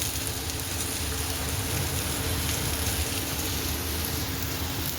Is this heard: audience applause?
no